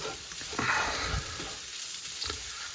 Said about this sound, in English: you pop some of the coriander powder in first. Let it cook, get the heat into it